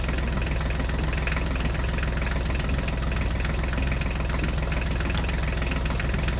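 Toy tractor pulling a trolley, a continuous buzzing motor drone with a rough, rattling texture, steady and close throughout with no pauses.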